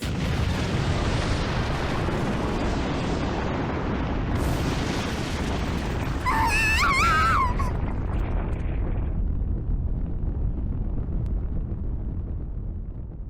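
A large explosion in the Muv-Luv Alternative visual novel, a loud, sustained rumbling roar that rolls on for several seconds with a brief high tonal sweep in the middle, then slowly fades to a lower, duller rumble.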